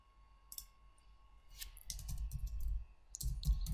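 Text typed on a computer keyboard, heard as soft, close keystroke clicks in an irregular run, quiet at first and then denser with low thumps from the desk.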